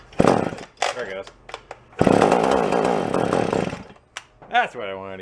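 A small chainsaw bought at a yard sale roars to life after starting, running loudly for a couple of seconds among short revving bursts and brief clattering sounds.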